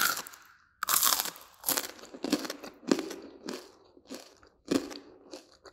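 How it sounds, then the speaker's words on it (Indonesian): Crunchy loukumades, Greek fried doughnuts crisp outside and soft inside, bitten and chewed up close, with a sharp crackling crunch at about one second followed by a steady series of quieter crunching chews, with no voices. "Jika dimakan hangat-hangat, teksturnya itu kriuk di luar dan lembut di dalam."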